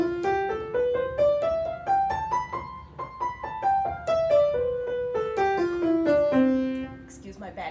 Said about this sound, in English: So here is a scale on the actual piano.